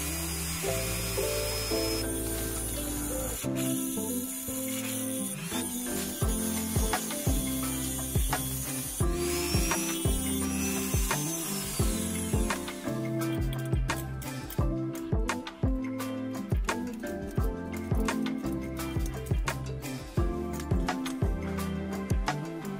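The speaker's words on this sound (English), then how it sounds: "Next, use a cutting machine to cut off the metal shield." A small rotary cutting machine cuts through the metal shield of a Xiaomi 50W wireless charging stand, a whining, buzzing grind with frequent scraping bursts and stutters, close and steady for the whole stretch.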